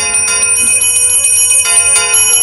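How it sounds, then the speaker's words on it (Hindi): Small bells ring repeatedly in a bright, metallic jingle, a dense cluster of overlapping strikes with sustained ringing tones, loud and close, with a fresh burst of strikes near the middle. "त्यों ही घंटियां बजने लग गई"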